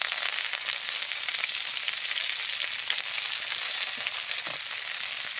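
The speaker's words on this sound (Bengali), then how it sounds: "এখন আমি কড়াইয়ে শাকগুলো দিয়ে দেবো" Leafy greens sizzling in a hot wok (kadai) in a home kitchen, a steady bright frying hiss with faint crackles, close and continuous with no talking.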